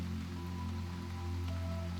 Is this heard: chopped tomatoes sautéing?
no